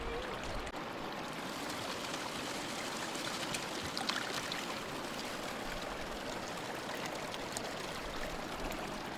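Water from a bucket runs steadily through a small gold sluice at an American Fork placer site, a continuous close trickling, splashing flow with no break.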